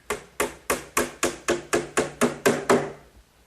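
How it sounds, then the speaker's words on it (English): Ten evenly spaced hammer blows drive 5-penny box nails into the top frame of a kitchen hutch, sharp close knocks on wood in a steady rhythm about three per second. "The top frame is held in place with some glue and some 5-penny box nails."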